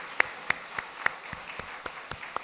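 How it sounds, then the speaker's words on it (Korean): A church congregation claps in a brief, sparse round, individual hand claps landing at a steady rhythm, fairly quiet and distant-sounding. "박수로 응원 드리겠습니다."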